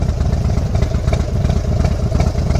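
A motorcycle engine idles steadily up close, a rapid, even low-pitched putter with light mechanical clatter and no talk over it.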